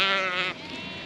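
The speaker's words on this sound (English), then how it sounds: "That's the sheep sorted out for now." A single sheep in a field gives a loud, close bleat, wavering and harmonic-rich, that drops off sharply halfway through into a softer tail.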